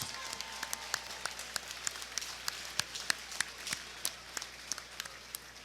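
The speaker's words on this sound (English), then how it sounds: "a round of applause for one hell of a contest" Fight fans applaud after a three-round MMA bout, scattered sharp claps rising and falling in a thin, moderately distant ripple of applause with no voices over it.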